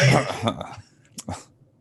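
Two short coughs sound in the background right after a burst of talk, brief and somewhat distant.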